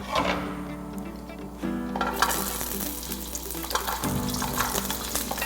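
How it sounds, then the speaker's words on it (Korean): Garlic fries in a hot pan with a steady close sizzle, punctuated by stirring clatter and a louder surge of crackling partway through. "그리고 마늘 먼저 볶을 거예요."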